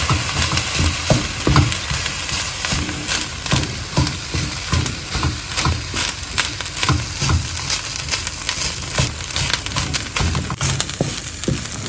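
Egg fried rice is stirred with soya sauce in a pan, a continuous close sizzle broken by repeated scraping strokes of the utensil at an uneven rhythm, with no talking.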